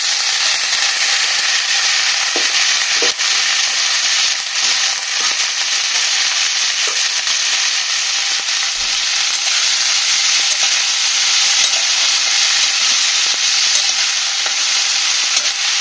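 Yardlong beans, potato and eggplant tossed into sizzling fried onions in hot oil, a loud, dense, continuous frying hiss with occasional stirring clicks, close up and without talk.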